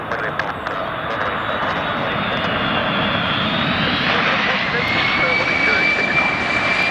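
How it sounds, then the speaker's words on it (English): A Corsair Boeing 747 jet makes a low pass, its engines a loud, sustained roar with a rising whine, while radio talk is heard beneath it. "747 will perform low pass"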